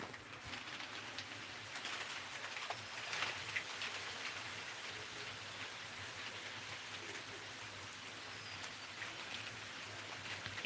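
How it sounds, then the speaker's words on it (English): Rain falling as Cyclone Remal makes landfall, a steady broadband hiss that stays faint and even throughout, with no voices. "You can hear the rain is also started here."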